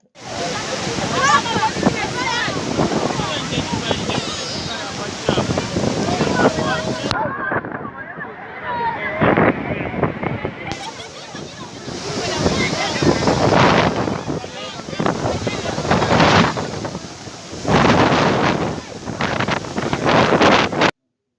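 Storm Freddy lashing Malawi in early 2023 brings a loud, sustained roar of wind and rushing water, gusts buffeting the microphone for the whole stretch, with a voice speaking over it.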